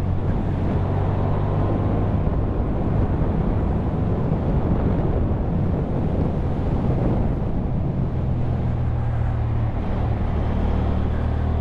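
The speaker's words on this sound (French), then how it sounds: "maintenant il fait froid, il y a du vent, il y a la totale quoi." Strong wind roars past a Honda Hornet 750 motorcycle riding through the mountains of the Vercors on a cold day, a constant loud rushing buffet over the microphone with the engine's low rumble underneath and no pauses.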